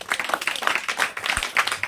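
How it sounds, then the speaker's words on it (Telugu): An audience at a Christmas gathering claps together in a short burst of dense, lively applause. "అందరం గట్టిగా చప్పట్లు కొడదాం ఒకసారి"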